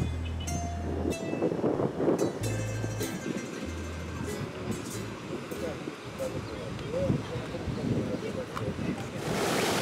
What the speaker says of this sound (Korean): 여섯 개의 풍차가 올려다 보이는 바닷가의 파도 소리가 여간이 아니다.